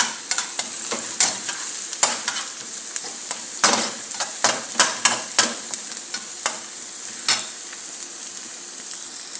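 Garlic stir-frying in a pan for fried rice, a soft continuous sizzle punctuated by irregular sharp scrapes and clacks of a spatula against the pan, close and clear with no talking.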